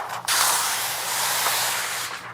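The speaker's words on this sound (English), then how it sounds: "We're going to go ahead and spray it down just one more time" A spray bottle mists solution onto paint protection film on the hood of a Dodge Charger Hellcat Redeye, producing a sustained close, loud hiss of about two seconds after a brief initial spurt.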